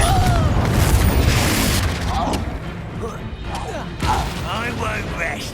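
Spell explosions and magical combat blasts from Hogwarts Legacy, a dense, loud run of booms and crackling impacts with bursts of shouted dialogue over them, the heaviest blast near the start and a fresh one around four seconds.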